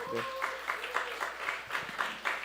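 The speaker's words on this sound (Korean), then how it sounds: "우리 박수로 맞이하겠습니다." Church congregation applauding to welcome newcomers at a service, a modest burst of clapping with pulsing swells, fairly near, with a brief tonal sound at the start.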